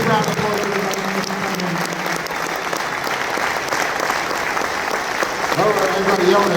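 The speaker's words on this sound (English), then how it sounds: "Big round of applause, everybody." Steady, dense audience applause fills a conference hall at a major cities conference, loud and continuous for several seconds with a slight swell near the end and a few voices mixed in.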